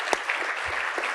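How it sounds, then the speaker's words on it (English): A lecture audience claps for the panel members, a short, full burst of steady applause. "can we all give a round of applause to the panel members?"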